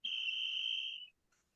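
A referee's whistle gives one loud, sustained shrill blast at a football game, lasting about a second and cut off cleanly, followed by near silence and a faint chirp.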